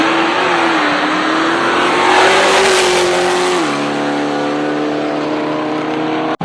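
A no-prep drag racing competition car with wheelie bars runs loud and close, its engine note rising and holding, then dropping to a steady lower drone before cutting off abruptly.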